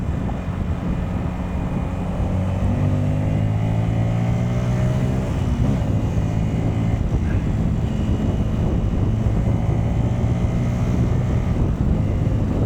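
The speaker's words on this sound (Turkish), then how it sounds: "Burada niye böyle yoğun bir trafik var şu an?" Heavy traffic on the Bostancı coastal road, a steady loud roar of engines and tyres close by, with a passing vehicle's engine note rising and falling throughout and no talk.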